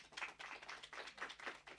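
Scattered applause from a university panel audience, fairly faint, with uneven claps fading in and out after a speaker's closing thanks.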